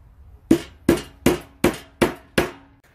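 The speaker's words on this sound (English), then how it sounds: "drilling a hole and putting a little nail in" A tiny finish nail hammered into a small wooden latch on a birdhouse, six evenly spaced, sharp hammer taps, close and clear, each ringing briefly in a quiet room.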